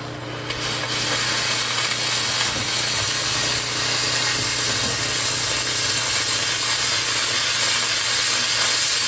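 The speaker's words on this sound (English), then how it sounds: "I'm going to use constant steam, and we're going to get around this corner here and see if we can't clean this up a little bit." A handheld steam cleaner sprays a constant, loud hiss of steam at a corner, starting abruptly and holding steady for several seconds without talk.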